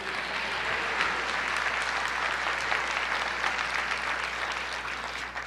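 A church congregation applauds the Lord in a dense, even stretch of clapping that holds steady throughout, alone, with a faint low hum beneath.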